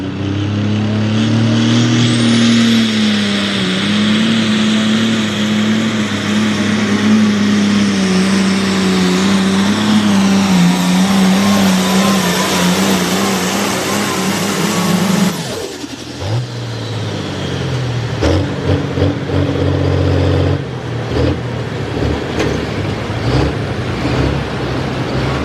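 A Case International pulling tractor called the Head Case thunders at a tractor pull in Millers Tavern, Virginia, its loud, near engine holding a sustained wavering howl before it abruptly cuts away to scattered, lower rumbling and bursts.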